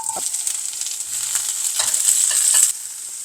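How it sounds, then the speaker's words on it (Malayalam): Hot oil sizzles steadily while mustard seeds pop and splutter in scattered bursts, fairly close, with a brief clink of utensils. "എണ്ണ ചൂടാകുന്നതുകൊണ്ട് നമുക്കൊരു അര ടീസ്പൂൺ കടുക് ഇട്ടു കടുക് പൊട്ടാൻ തുടങ്ങുന്നുണ്ടെങ്കിൽ"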